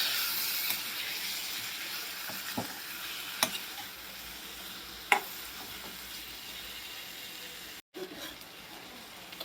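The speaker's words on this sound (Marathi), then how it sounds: "मिक्स करून घ्यायचं आहे आपल्याला व्यवस्थित।" Homemade red chilli powder is stirred into capsicum masala frying in a pan, with a steady close sizzle and hiss under a few sharp spoon clicks and scrapes against the pan, then a brief pause before the frying resumes.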